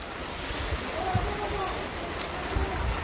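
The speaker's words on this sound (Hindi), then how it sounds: "बारिश तेज तेज हो रही है दोस्तों" Steady rain pours down with a constant hiss, a few louder drops and thuds standing out nearby.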